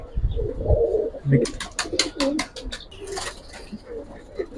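Giribaj and coloured pigeons in a loft give soft, low coos close by, with sharp clicks and fluttering, while people talk in the background.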